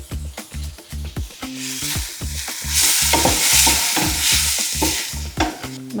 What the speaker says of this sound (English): Adding the soya chunks, and now we'll let them cook together.